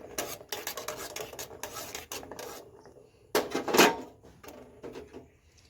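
Gulab jamun made from boiled rice are stirred in sugar syrup in a pot, giving scraping, rubbing strokes of utensil against metal that come in irregular bursts with quiet gaps, followed by one louder clatter.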